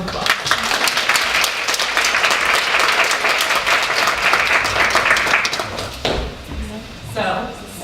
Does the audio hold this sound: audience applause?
yes